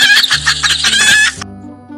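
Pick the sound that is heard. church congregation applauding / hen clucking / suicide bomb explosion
hen clucking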